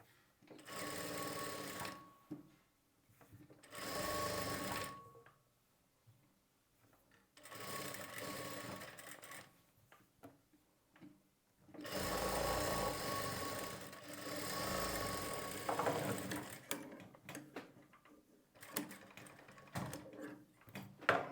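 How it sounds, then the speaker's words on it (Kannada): A sewing machine attaching a sleeve runs in several separate bursts of rapid stitching, close and clear, with short quiet pauses between runs. "ಸ್ವಲ್ಪ ಸ್ಟಿಚ್ ಮಾಡಿ ಸ್ಟಾಪ್ ಮಾಡಿ ಚೆಕ್ ಮಾಡ್ತಾ ನಾವು ಸ್ಟಿಚ್ ಮಾಡ್ಕೊಳ್ಬೇಕು."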